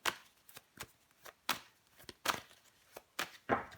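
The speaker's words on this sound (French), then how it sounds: "Je vais recouvrir des cartes." Tarot cards being handled and laid down on a table during a reading, giving a series of crisp, separate snaps and slaps, about a dozen in under four seconds at an irregular pace, close by with no talking.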